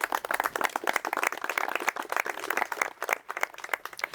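A studio audience applauds at the close of a youth discussion programme on the 2019 elections, with dense, steady clapping for about four seconds at moderate volume.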